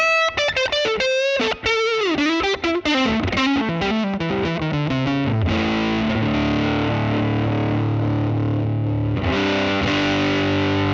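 Distorted electric guitar runs through a Line 6 Helix amp model with a gritty vintage character, moving from quick picked single notes into loud sustained chords that ring out alone.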